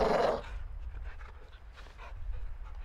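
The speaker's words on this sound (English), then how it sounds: "Do you see the caged dog?" A caged dog in Call of Duty: Modern Warfare 2 pants steadily in quick, breathy bursts after a brief louder opening noise, close and alone.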